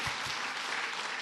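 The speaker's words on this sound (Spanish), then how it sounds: "nomás los varones aplauden" Men in a church congregation clap together, a dense steady patter of applause that fills the room at moderate volume.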